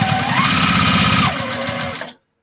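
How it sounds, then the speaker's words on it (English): Sewing machine running a quarter-inch seam on a baby rag quilt, a steady close, loud mechanical whir with rapid stitching rhythm for about two seconds, then a slight change in pitch before it stops abruptly. "I'm doing a quarter-inch seam."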